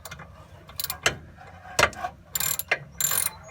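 A ratchet wrench clicks in short bursts of rapid pawl ticks while tightening brake bolts during a DIY brake job, several separate runs close by with pauses between them.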